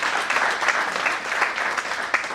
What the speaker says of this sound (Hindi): एक बार जबरदस्त तालियां हमारी ग्रेट कंपनी डॉफी ट्रन मार्केटिंग के लिए